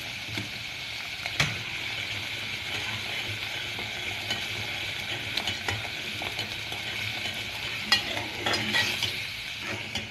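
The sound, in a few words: stirring and frying spice masala in a pan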